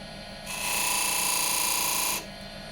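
A skew chisel cuts a V into walnut burl spinning on a wood lathe: a hissing, scraping cut starts abruptly, holds steady for under two seconds, then stops, leaving a quieter lathe hum.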